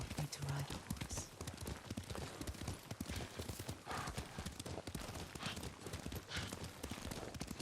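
Rapid hoofbeats of a galloping horse in the video game Ghost of Tsushima pound steadily, fairly close, with a brief whinny near the start and a noisy, busy backdrop.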